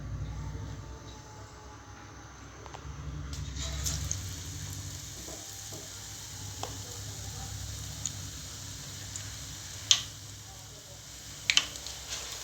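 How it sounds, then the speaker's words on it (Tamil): Eggplant fritters coated in batter fry in hot oil, a soft steady sizzle with a low rumble underneath, a few sharp clicks and taps near the end, no talk heard. "இப்போ கத்திரிக்காயை நான் மாவில் மிக்ஸ் பண்ணி எண்ணெயில் போட்டுக்கலாம்."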